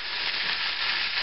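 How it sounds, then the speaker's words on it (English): Cabbage and Spam frying in a pan, a steady close sizzle with a broad hiss that holds evenly throughout and no talking. "Some of these bigger pieces could go a little longer, but it's frying"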